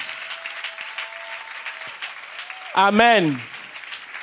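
A church congregation claps steadily to acclaim the Lord, a dense, even patter of applause before a single loud voice calls out near the end.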